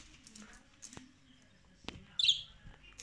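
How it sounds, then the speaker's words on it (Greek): A pet cockatiel parrot gives a few soft, short chirps and tweets with light tapping and rustling around it, close by and fairly quiet. "ένα πολύ καλό παράδειγμα είναι αυτός ο παπαγάλος ο Κατήλ"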